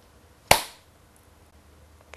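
A single sharp hand clap, close and crisp with a short ringing tail, standing alone in a quiet room as a one-beat syllable clap of a word.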